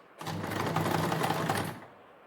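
Sewing machine stitching lace onto a sleeve, a brief close burst of rapid, even needle clatter lasting about a second and a half, then stopping.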